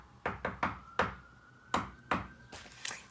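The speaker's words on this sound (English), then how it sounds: "you could knock with a secret knock that only she knows" A secret knock on a door, a patterned run of sharp raps: three quick taps, a pause-separated fourth, then two more and a final quick double tap, close and clear with no talking.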